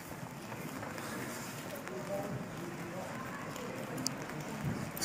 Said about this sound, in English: Sadly, we've got rain again.